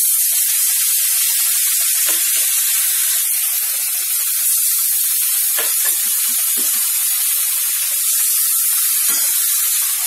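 Ginger, turmeric and green chilli paste sizzles steadily in a hot pan for broccoli aloo masala, a loud continuous hiss with a few faint clinks under it.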